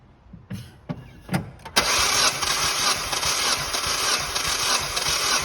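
A car engine cranks during a cylinder 1 compression test: a few brief clicks, then the starter turns over continuously with a loud, steady churning drone for several seconds.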